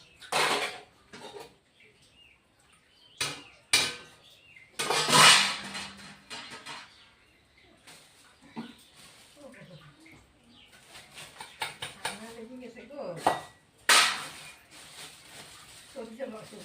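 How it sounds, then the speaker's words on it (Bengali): Dishes are scrubbed by hand outdoors, with scattered clinks and clatters of utensils between pauses, pigeons cooing nearby and a person talking quietly at times. "এখন শুধু ওই বাসন কটা মেজে নেব"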